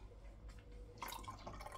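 About half a cup of water is poured from a glass into buttermilk lemonade, a short soft splashing trickle close by with a brief burst of liquid sound toward the end.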